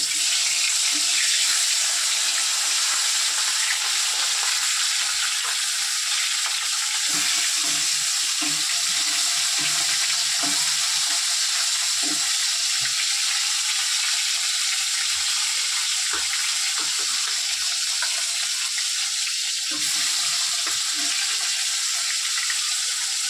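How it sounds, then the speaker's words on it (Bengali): Fish head frying in hot oil, a continuous close sizzle and spitting hiss that stays loud and steady throughout, with faint clatter underneath. "আজকে মাছের মাথাটা প্রথমে ভাজবো।"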